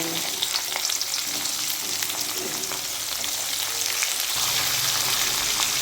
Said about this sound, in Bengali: সবজিগুলো হালকা করে ভেজে নেব।